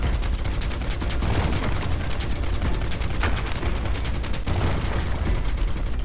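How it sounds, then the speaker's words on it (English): Rapid, loud gunfire in Final Fantasy VII Rebirth as rocks are shot apart, a dense unbroken fusillade of shots with crackling bursts running through the whole stretch. "We're blowing up rocks by shooting at them"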